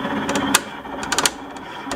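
A Bravo multi-needle embroidery machine tracing the outline of its hoop, giving a close mechanical whir with several sharp clicks and motor pulses over two seconds, with no talking.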